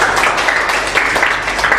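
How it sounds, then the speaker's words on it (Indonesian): A church congregation applauds: dense, steady clapping from many hands fills the room at a loud, even level for the whole stretch, with no distinct voice standing out. "Beri tepuk tangan buat Tuhan Yesus."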